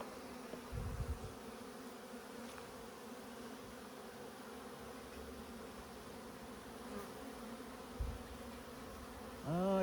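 Honey bees buzzing in an Alaska beehive: a steady, even hum of many insects, close and continuous, with a couple of brief low thumps and a rising tone near the end.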